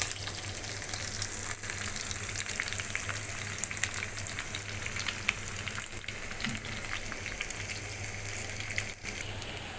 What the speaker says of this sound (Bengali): আমি এভাবে ভেজে নিয়েছি কলিজাটাকে। এখন আমি এগুলাকে ভেজে নিই।